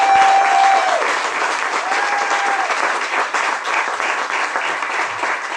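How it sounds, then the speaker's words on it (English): A crowd claps steadily and warmly, a broad wash of applause that continues evenly without cheering or talk. "Can I get a quick round of applause for the School of Rock?"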